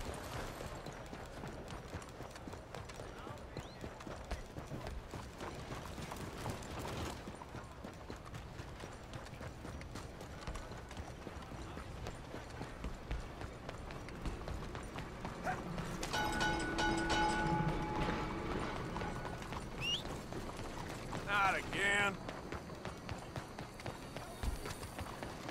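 Horse hooves clip-clop steadily in Red Dead Redemption 2, a soft rhythmic trot running throughout at moderate distance, with game mechanisms clicking faintly in the background.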